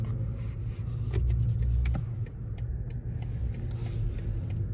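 A BMW i7 backs out and pulls away on a city street, a steady low engine and road rumble holding close and fairly loud throughout, with no one talking.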